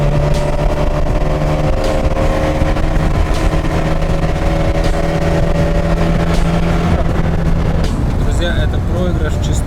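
A ZAZ 968M car races a BMW, its engine droning loudly and steadily with shifting tones and a change in pitch near the end, while someone talks over it.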